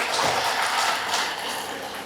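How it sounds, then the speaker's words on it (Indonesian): Applause from an audience at a Muhammadiyah 113th anniversary gathering at the Darul Arqam Muhammadiyah boarding school in Garut, a steady wash of clapping lasting the whole moment without talk. "Kita beri aplaus"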